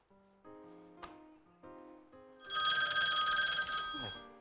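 A telephone rings during an evening religious talk program: a few soft electronic tones come first, then a loud, sustained bell-like ring holds for about two seconds before stopping.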